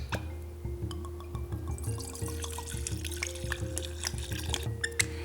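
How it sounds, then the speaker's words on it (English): High-proof whiskey pours into a glass jar, a steady trickle with small splashes and drips, close and fairly quiet, without talking. "I'm going to pour a couple cups into my jar"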